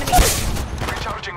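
Gunfire in the mobile battle-royale game Apex Legends Mobile: a brief burst of shots with a sharp crack near the start, then a rattling tail that fades quickly.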